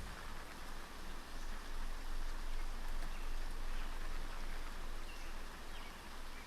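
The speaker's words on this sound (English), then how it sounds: "It's raining." Steady rain in the game NEO Scavenger patters and hisses evenly across the whole stretch, a constant wash of droplets with no voices.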